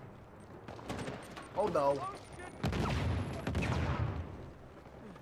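Video game gunfire in Uncharted 4: bursts of shots and explosive cracks fill the scene, loud and close, with someone speaking and exclaiming in alarm over the shooting.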